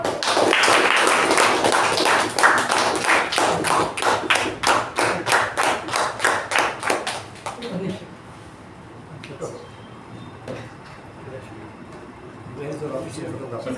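Audience at a Toastmasters meeting gives a big round of applause for former Toastmaster award recipient Vijay Upendra, loud steady clapping for about seven seconds that fades into quieter room noise and murmuring.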